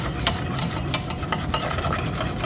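A spoon stirs homemade chocolate pie filling in a pot on the stove, scraping the bottom with repeated soft, gritty strokes against a steady background hiss, close and moderately loud.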